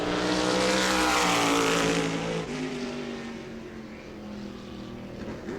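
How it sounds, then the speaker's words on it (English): Race car, the number 11 Family Funland sponsored car, heading out on track during World Series qualifying at New Smyrna Speedway, a loud close engine roar that passes and slowly recedes while holding a steady drone. "Norm Newman in the 11 comes out on track, the Family Funland sponsored car."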